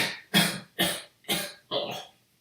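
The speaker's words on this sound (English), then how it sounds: "He coughs." Four harsh coughs come in a steady rhythm, close and fairly loud, with short gaps between them, in a tabletop role-playing game.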